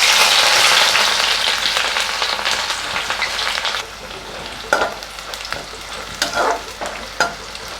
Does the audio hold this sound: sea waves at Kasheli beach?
no